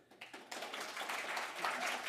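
Students' families and friends at an awards ceremony break into applause and cheering. Scattered claps quickly swell into a steady, faint wash of clapping heard from a distance.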